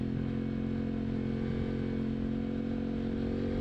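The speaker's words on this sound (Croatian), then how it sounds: "A ovaj mi se sviđa što ima ovaj vrum." An Aprilia RS 660 Extrema sport motorcycle engine drones steadily up close, a constant throbbing hum at even loudness with no voices.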